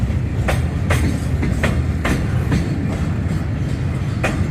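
An old GEK diesel locomotive hauls a short train of oil tank cars past Bang Sue, giving a steady loud rumble with periodic clickety-clack wheel beats over rail joints, close by and continuous.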